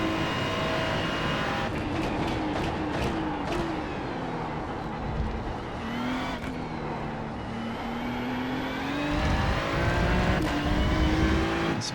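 A race car runs flat out on a circuit lap, its engine howling at high revs with rising pitch sweeps through each gear and quick shift breaks, loud and close from onboard, no talk.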